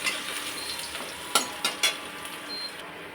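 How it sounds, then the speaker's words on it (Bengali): Green chili and garlic frying in a pan, a steady close sizzle with a few sharp stirring clicks and scrapes midway. "কাঁচা লঙ্কা আর রসুন, বুঝেছো? ভালো করে সেটাকে ভেজে নেব।"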